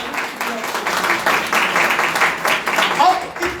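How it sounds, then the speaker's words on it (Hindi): A congregation claps together at a Sunday church service in Lahore, Pakistan, a broad, fairly steady burst of applause filling the room over several seconds, with some voices mixed in beneath the clapping. "आइए खुदावंद के नाम को हम जलाल देते हुए खुदावंद के लिए जोरदार तालियां करेंगे"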